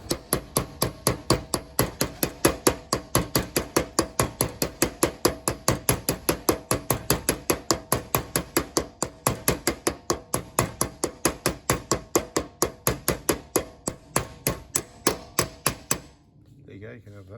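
A hammer hits a front wheel bearing during its replacement, dozens of loud, evenly spaced metallic blows in a fast, steady rhythm that lasts about sixteen seconds and then stops.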